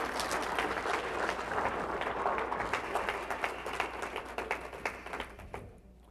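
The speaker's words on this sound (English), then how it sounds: "Can you clap?" A seminar audience claps along at a natural healing talk, a soft, somewhat distant patter of many hands that grows more rhythmic and gradually fades toward the end.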